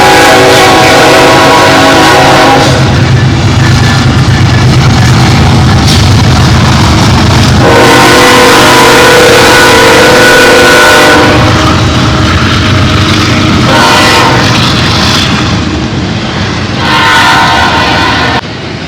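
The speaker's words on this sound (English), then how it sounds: "Sure sounds like a train." A train passing nearby, loud and continuous with a steady rumble, rail clatter and horn blasts rising and falling over the whole stretch, no voices.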